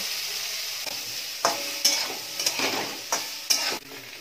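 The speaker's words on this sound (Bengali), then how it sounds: "এবার ওই তেলেই পনিরটা একটু হালকা করে একটু ভেজে নেব" Paneer pieces fry in white oil in a kadai after potatoes, with a bright steady sizzle broken by several spatula scrapes and stirring knocks, close up and without speech.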